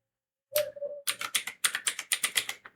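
A brief tone, then crisp, close keystrokes as HWMonitor is typed into a browser search box on a Windows PC, a quick irregular run of about a dozen distinct clicks in a quiet room.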